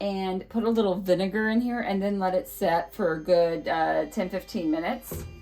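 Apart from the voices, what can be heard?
No everyday noise stands out behind the speech.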